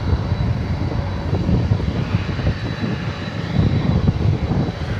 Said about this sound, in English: here's the UPS plane that's getting pushed back